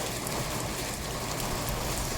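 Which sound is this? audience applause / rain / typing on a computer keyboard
rain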